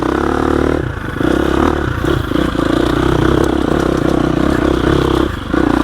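A 2021 GasGas EX 350F dirt bike ridden in second gear over loose rocks, its loud close engine droning steadily with brief dips in throttle, while rocks clatter and scrape beneath it.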